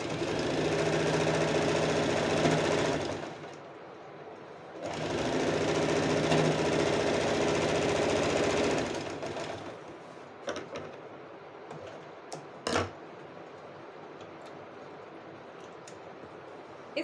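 A sewing machine stitches a folded fabric strip onto a blouse in two steady bursts of dense, rapid whirring with a short pause between them, followed by quieter handling sounds and clicks.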